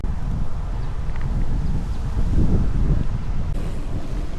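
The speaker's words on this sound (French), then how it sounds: "Et là, vraiment, je me tape un vent." Strong wind buffets the microphone in a continuous low rumble, swelling and easing slightly, with no voices.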